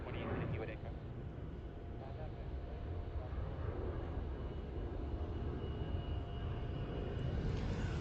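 A Virgin Australia Boeing 737-800 takes off from Melbourne Airport, a steady broad jet roar that holds loud and continuous throughout, with a voice talking faintly over it.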